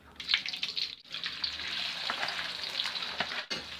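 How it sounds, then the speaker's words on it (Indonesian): Chicken fries in oil for mie ayam, a dense, continuous sizzle and crackle with a few brief dips, close and fairly loud, with no voices. "Jadi kita gunakan untuk menggoreng ayam biar kaldu ayamnya juga meresap ke minyaknya."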